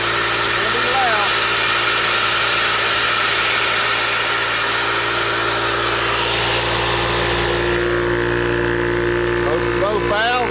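A Yong Heng air compressor runs loud and steady with a continuous motor drone and hiss, and the tone shifts partway through as valves are opened; a voice talks over it.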